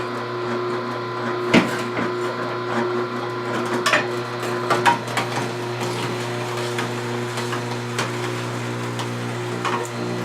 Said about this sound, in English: let's go ahead and turn the machine on, and we're going to start cutting the cucumbers and feeding them into the machine